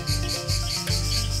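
A loud, steady cicada mating call in Thailand, a pulsing, rasping buzz from abdominal timbals, dipping briefly twice before resuming, continuous and close with no voices.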